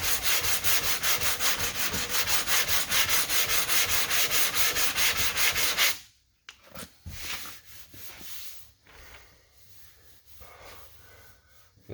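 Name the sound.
sanding Bondo on a car body line with a block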